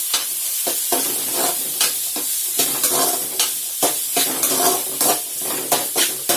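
Chopped onion, carrot and other vegetables are sautéed in a generous pour of oil in a kadai, hissing loudly while a spatula strikes and scrapes in a regular rhythm; no voices.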